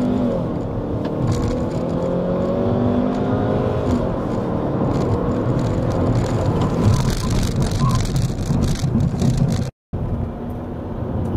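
A 2012 Hyundai Sonata Hybrid with 206 horsepower accelerates hard, its engine note rising steadily through several seconds under heavy road and wind noise from inside the cabin, then cutting out briefly before resuming.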